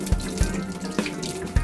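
Tap water runs steadily into a bowl of potatoes being rinsed in a kitchen sink, a close, continuous splashing rush with a few sharp knocks and clunks.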